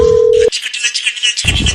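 A phone call cutting off: a steady single tone sounds briefly, then stops abruptly, followed by a stretch of line noise and hiss before another burst of broadband noise.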